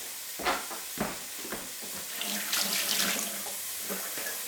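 Potatoes are washed under a running kitchen tap, with a soft steady stream of water and intermittent splashes and knocks as they are turned by hand.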